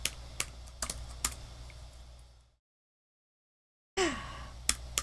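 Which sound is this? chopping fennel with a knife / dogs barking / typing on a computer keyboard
typing on a computer keyboard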